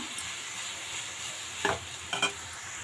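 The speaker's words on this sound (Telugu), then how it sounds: "ఇప్పుడు మళ్ళీ ఒకసారి బాగా కలిపేసుకుందాము" Chicken fried rice with a splash of soy sauce is tossed in a hot pan under a soft, steady sizzle, broken by a few quick scraping clatters of the spatula.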